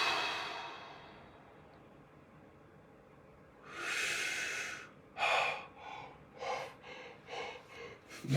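Short, shallow breaths drawn close to the ear, a quiet stretch followed by a run of quick sniffing, hissing inhales and exhales in an uneven rhythm, with no talking.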